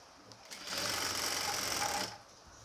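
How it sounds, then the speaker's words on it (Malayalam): A sewing machine runs in one steady burst of rapid, even stitching through nightdress fabric, close and fairly loud, starting and stopping cleanly. "തയ്യൽ തുമ്പെടുത്ത് സ്റ്റിച്ച് ചെയ്ത് കൊടുക്കുക"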